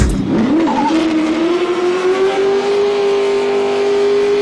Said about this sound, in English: long, loud, lurid burnouts was Steph Papadakis' reality.